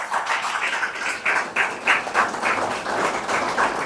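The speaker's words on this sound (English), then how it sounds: "Can we clap for ourselves?" A room of seminar attendees claps for themselves, a dense, moderately loud patter of many hands with slight pulsing swells, continuing for a few seconds without speech.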